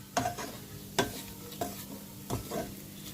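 Bitter gourd pieces stirred and frying with chili powder in a pan, four or five distinct scraping stirs over a soft sizzle, fairly quiet and without speech.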